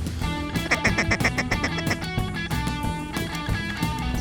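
Mallard ducks quack during a duck hunt in a quick, rhythmic series of loud, close calls that rise and fall over a steady background.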